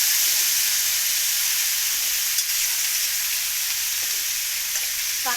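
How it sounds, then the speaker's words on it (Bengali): Drumstick (moringa) pieces, potato and tomato frying in hot oil in a pan for katla fish curry. A loud, steady sizzle and hiss holds throughout, close to the pan, with a few faint clicks and no voices. "মাছের ঝোল এই দিয়ে দিচ্ছি সজনের ডাঁটা, আলু আর টমেটো"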